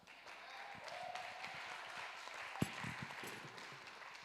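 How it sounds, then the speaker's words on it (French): Women applaud at a wedding banquet, a soft scattered clapping that stays fairly faint and steady, with one sharp louder clap partway through. "Pourquoi les femmes applaudissent trop sur la partie là?"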